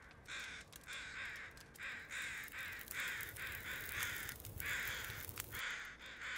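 Crows caw in The Long Dark, a raucous flock giving repeated harsh calls in an irregular chorus over a constant windy outdoor hiss, loud and close.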